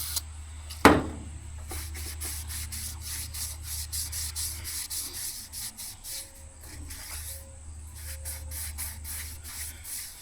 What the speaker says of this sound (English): I'm gonna probably give it a little scrubby scrub on the inside here.